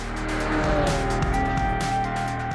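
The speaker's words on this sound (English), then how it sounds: "The car is just so happy to swing around from corner to corner, apex to apex." Jaguar XE driven hard around a race track, a continuous engine note with tire noise as it sweeps through corners, loud and close with no voices.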